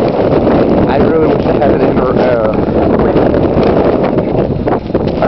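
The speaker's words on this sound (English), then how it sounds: "I really wish I had wind measurement at this point, because these guys have to be 35 kilometers and disgusting." Strong gusts from the Great Blizzard of 2010 roar continuously and loudly against the microphone, a dense, unbroken rush of wind with someone speaking over it.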